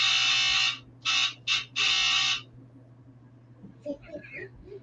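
A loud electronic buzzer from a fire alarm sounds in several harsh blasts, one long and then shorter pulses, before a person starts talking.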